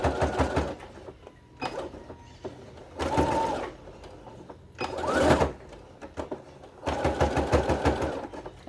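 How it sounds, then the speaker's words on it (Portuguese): A sewing machine stitches a French seam on a cushion cover, running in several short bursts of rapid, close-up needle chatter separated by quiet pauses, with some bursts deliberately slower over a thicker section. "Essa parte que é mais grossa, você pode ir devagar, tá?"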